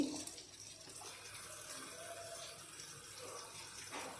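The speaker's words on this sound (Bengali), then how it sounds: "যে চিকেনগুলা মশলা দিয়ে মেখে রেখেছি ও জলগুলো দিয়ে দিচ্ছি" Marinated chicken and its liquid are poured into a pot for bhuna khichuri, a faint watery splash and trickle with soft kitchen background noise.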